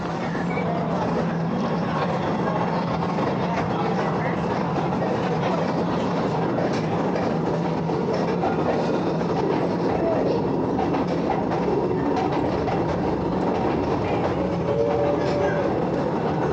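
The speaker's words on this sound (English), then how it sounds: "Gonna ride that little tram thing." Small tram carrying riders into a cave in Slovenia: a continuous rumbling roll with clattering wheels and a brief squeal near the end, steady and fairly loud, with people talking under it.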